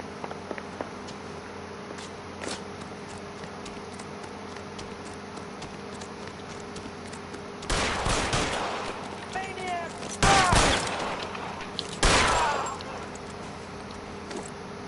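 Gunfire in the video game L.A. Noire, with several bursts of sharp shots clustered near the end, loud against a quiet game ambience, with occasional talk around them.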